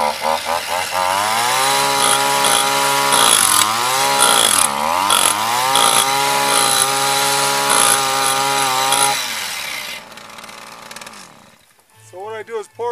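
A concrete drill used as a mixer whines loudly and steadily for about ten seconds, its pitch dipping as it bogs down in thick material, then winds down and stops.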